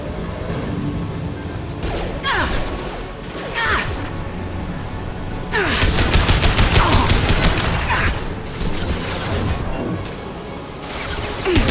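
Gunfire in the video game Mass Effect 2 during combat on Insanity difficulty, bursts of shots and mechanical clatter layered over a dense battle soundscape, loudest in the middle stretch, with voices talking over it.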